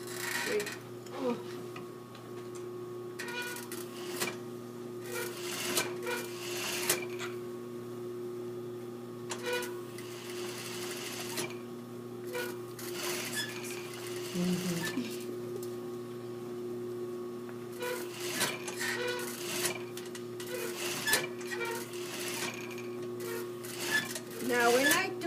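A sewing machine stitching fabric hums steadily with a ticking mechanical rhythm, interrupted by brief pauses, close and moderately loud with occasional clinks in the background.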